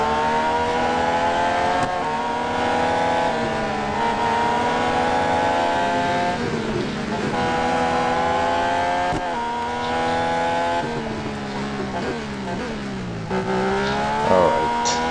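Race cars in the Real Racing 3 video game at Hockenheimring, a continuous loud engine whine rising and falling through gear shifts, with several cars close together.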